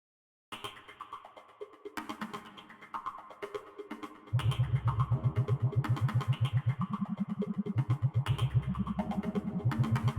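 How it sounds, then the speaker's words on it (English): Player vehicle engine in an Unreal Engine game demo, a synthesized motor whose pitch climbs and drops in repeated sweeps as speed changes, then settles into a loud, steady pulsing drone, with no talking. "You can hear the player's engine."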